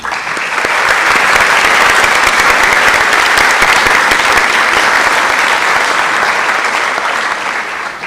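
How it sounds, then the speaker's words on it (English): Audience at a May 2025 honors convocation applauds teachers with sustained, dense clapping that holds steady for several seconds before tapering slightly, loud and close throughout with no speech over it. "Please give them another round of applause."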